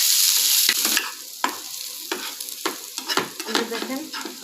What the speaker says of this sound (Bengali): এখন পেঁয়াজটা আমি ভেজে নেব।